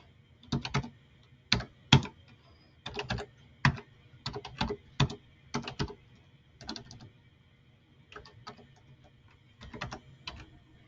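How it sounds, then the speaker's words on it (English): Keys on a computer keyboard are tapped in quick, irregular bursts of clicks with short pauses between them, fairly quiet and close, while entering a spreadsheet formula in a math classroom setting. "I'm actually using the X on the keyboard for this to show multiplication."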